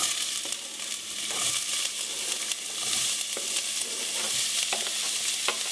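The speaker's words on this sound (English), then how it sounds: "Just saute onions a couple of minutes until they're tender." Onions sautéing in olive oil in a pan, a steady close sizzle and fry with occasional stirring scrapes, no talking.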